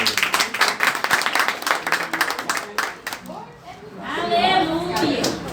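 Church congregation clapping to greet a preacher, with sharp individual claps at first that thin out after about three seconds. Voices then rise in excited talk and shouting.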